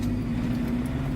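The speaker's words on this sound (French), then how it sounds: "Et là, on part rouler pour 1 km." A car's engine hums steadily as it drives off for a 1 km calibration run, a low continuous rumble at close range with no voices.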